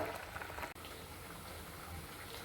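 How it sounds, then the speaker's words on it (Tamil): Kuzhambu bubbling at a steady boil in a pot on a gas stove, a soft continuous simmering hiss and burble, faint and close, with no one speaking. "இப்போ நம்ம குழம்பு நல்லாவே கொதிச்சுன்னு வருது."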